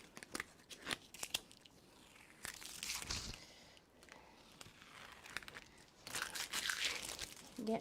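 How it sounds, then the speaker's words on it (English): Tape being peeled off a handmade card during paper crafting, a series of soft crinkling rips and sticky pulls, quiet and close, alone without talk. "So now I can remove my tape again."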